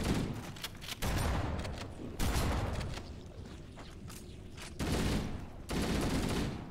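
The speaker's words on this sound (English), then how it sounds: "They just shoot your body for good measure." Continuous video-game gunfire in Halo as enemies keep shooting a fallen player's body, loud dense bursts with short pauses between volleys and a quieter stretch in the middle.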